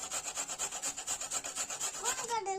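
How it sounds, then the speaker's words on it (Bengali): Carrot and cabbage are grated by hand for vegetable momos, giving a quick, even series of scraping strokes, close and fairly quiet, with the rhythm easing toward the end. "গাজরটা আর বাঁধাকপিটাকে ঘষে নেব,"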